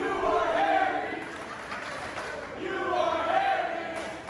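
Wrestling crowd at a live independent show, a CCW Bash at the Brew event, rising in two waves of rhythmic chanting and crowd noise, loud and steady, with a dip between them.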